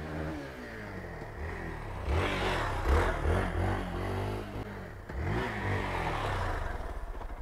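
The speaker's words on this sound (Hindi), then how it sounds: "अभी राहुल जा रहा है अनिकेत भाई की बाइक लेके" A Royal Enfield Bullet motorcycle starts and rides off, its thumping single-cylinder engine revving up loudly, then easing and revving again as it pulls away. No one talks.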